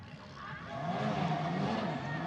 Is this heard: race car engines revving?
yes